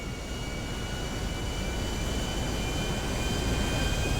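Jet airplane engines roar steadily during a takeoff run in GTA 5, a broad continuous rumble with a faint high whine held at even loudness throughout.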